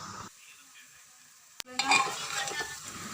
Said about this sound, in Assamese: এতিয়া মিহলাই লোৱা চাউলবোৰ অলপ সময়ৰ কাৰণে ভাজি ল'ম।